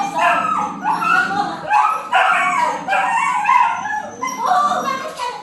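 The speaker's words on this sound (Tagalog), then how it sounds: "Ay, andyan ang aso." A dog at a house in Cavite barks, yips and whimpers in a run of loud, close calls that repeat without pause, one call breaking into a howl-like whine.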